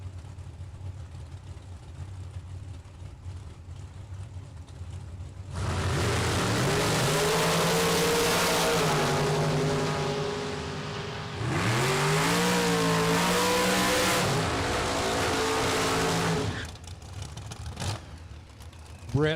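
Dragsters at a drag racing event roar off the starting line in two long, loud bursts of engine noise that rise in pitch as they accelerate away, then drop back to a quieter background rumble.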